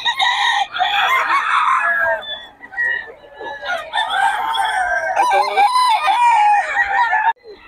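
Chickens and roosters at a market crow and cluck loudly and nearly continuously, several birds overlapping close by, with faint background bustle.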